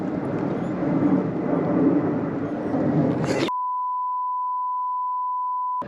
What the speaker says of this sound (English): and all you hear is an aeroplane.